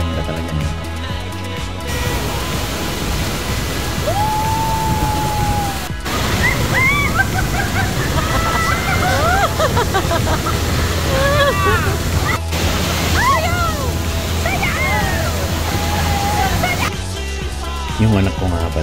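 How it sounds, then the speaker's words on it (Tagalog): Waterfall at Baler, Aurora, a steady roar of falling water filling the whole span at constant loudness, with a voice and other voices talking over it throughout. "kung gaano kalakas yung bagsak ng tubig kanina sa video"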